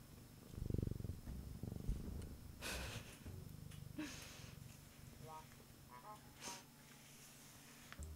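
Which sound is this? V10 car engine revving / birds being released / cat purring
cat purring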